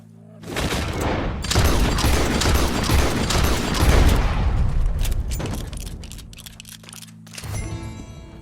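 Rapid bursts of gunfire from Red Dead Redemption 2 crackle loud and dense for several seconds, trailing into scattered single shots and a few sharp final cracks.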